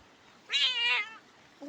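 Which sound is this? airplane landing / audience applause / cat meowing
cat meowing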